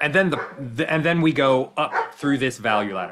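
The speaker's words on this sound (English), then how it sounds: "you can hear my dogs barking in the background" Dogs bark loudly and repeatedly behind someone speaking continuously, the barks overlapping his voice throughout.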